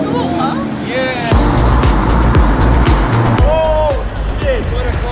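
A Lamborghini Terzo Millennio concept car drives close by with a loud engine roar, a surge and rev in the middle, and squeaky tyre noise, while excited voices talk over it.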